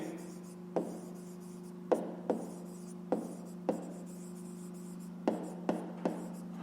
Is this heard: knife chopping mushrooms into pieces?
no